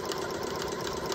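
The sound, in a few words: sewing machine stitching a corded pillow from curtain fabric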